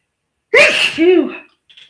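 A single loud close-up human sneeze, a sharp voiced burst with a tonal second part, followed by a faint short sound.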